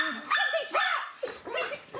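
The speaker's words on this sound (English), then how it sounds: "it's not just the dogs making the noise" Several small dogs bark and yip excitedly close by, in quick overlapping bursts with whiny high-pitched cries.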